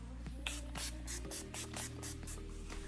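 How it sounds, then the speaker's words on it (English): Face setting spray hisses from a pump bottle in a rapid series of about eight short, close bursts, evenly spaced, with no talking. "Now I'm going to spray my face."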